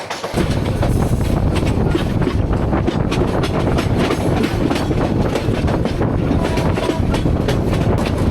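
The Mahanagar Provati passenger train runs through Tongi railway junction on the Dhaka–Chattogram line, its wheels clattering loudly and rhythmically over rail joints with a constant rumbling roar and no talk throughout.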